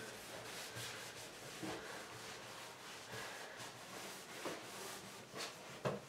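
Chalk paint being rubbed into a wooden medicine cabinet with a cloth or brush, a soft, close scrubbing and swishing in short repeated strokes, faint and alone with no voices.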